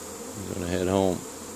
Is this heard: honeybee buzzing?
yes